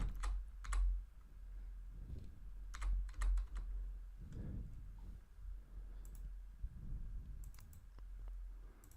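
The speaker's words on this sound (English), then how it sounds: "I keep double clicking when I'm supposed to be hitting enter" Computer keyboard typing and mouse clicking come in bursts of sharp clicks and keystrokes at close range. Low thumps and a faint hum sit between them.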